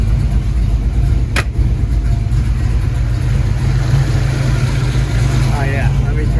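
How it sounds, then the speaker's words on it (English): A Foxbody Mustang engine idles steadily at about 900 rpm, a loud, continuous low rumble close by, with talk over it. "We're idling at right at 900."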